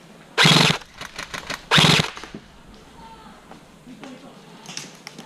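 Gunfire in the video game SEALs rings out in two loud automatic bursts, followed by scattered lighter shots and clicks.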